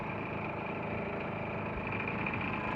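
A 1974 Evinrude 2 horsepower outboard motor running steadily with the choke open, a continuous buzzing putter at constant speed, close and fairly loud, with no voices.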